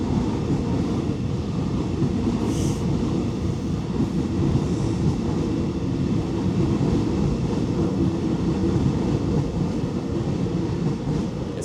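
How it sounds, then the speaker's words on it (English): A train rumbles past outside in Chiang Mai, a steady low roar holding at constant loudness throughout, with no talk over it. "There's just a train going past right now"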